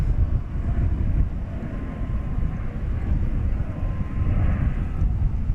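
A fast aircraft taking off from a runway at DFW Airport: a loud, steady, broad jet roar that holds without a break throughout, with no voices.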